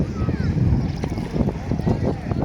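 Gusty wind at a sandy beach campsite buffets the microphone in low rumbling bursts, with a voice faintly audible underneath.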